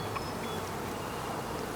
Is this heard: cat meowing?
no